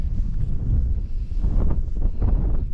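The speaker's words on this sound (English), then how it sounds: "that wind's picked up again." Wind gusting across an open hillside in the Scottish Borders, a steady loud rumbling roar buffeting the microphone with surging gusts throughout, no voices.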